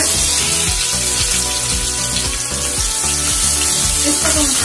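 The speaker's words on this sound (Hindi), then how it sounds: "इसको तो हम थोड़ा फ्राई करेंगे" Onions frying in hot oil with whole spices in a pan, a steady dense sizzle holding loud and close for the whole stretch, with faint stirring clinks underneath and no talk.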